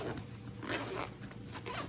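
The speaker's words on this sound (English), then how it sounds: "Kind of zip it up" Zipper pulled closed on the side pocket of a tactical diaper bag holding a compact CZ P10 pistol, a soft continuous zipping rasp for about two seconds, close and quiet, no talk.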